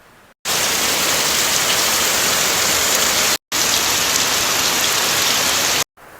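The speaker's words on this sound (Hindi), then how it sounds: "देखिए दर्शकों, बाहर कितनी बारिश हो रही है।" Heavy rain pours down outside in a loud, dense, steady hiss, broken by two brief cuts, with no voices.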